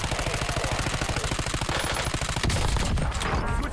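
Rapid automatic gunfire in Call of Duty: Warzone: a fast, evenly spaced stream of loud shots that runs without pause, then turns into a denser clattering barrage near the end.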